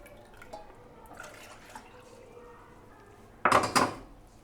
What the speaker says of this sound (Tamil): கார்ன்ஃப்ளவர் மாவு வந்து இது நல்லா மிக்ஸ் பண்ணிடணும். கட்டி இல்லாமல் மிக்ஸ் பண்ணிவிடுங்க.